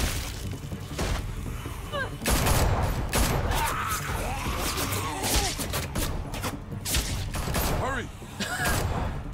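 Gunshots in The Walking Dead: Michonne game, a burst of sharp cracks and thuds scattered irregularly over several seconds, with clinks and mechanical clatter between shots.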